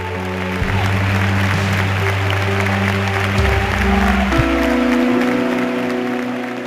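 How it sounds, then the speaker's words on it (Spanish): Stadium crowd applauding in tribute during a football match, a steady dense wash of clapping from the stands that holds throughout, with a low sustained tone running beneath it. "la grada empieza a aplaudir"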